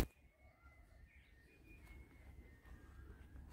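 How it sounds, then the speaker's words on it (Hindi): Faint bird calls drift through an outdoor morning in Gurugram, a thin sustained whistle-like note and scattered chirps set far off over low background rumble. "पक्षियों की आवाज अभी भी सुन सकते हैं आप गाइस"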